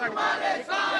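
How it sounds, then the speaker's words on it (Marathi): Party workers in Malvan cheer and shout together in a dense, loud crowd roar celebrating an election win, with a brief dip before swelling again over one second. "कार्यकर्त्यांकडून जल्लोष केला जातोय।"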